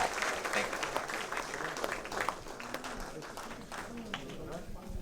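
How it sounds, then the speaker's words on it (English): An audience at a 2020 political forum in Polk County, Texas applauds the candidates for U.S. Congress, a steady wash of clapping that holds for about five seconds at moderate loudness. "A round of applause for the candidates for U.S. Congress"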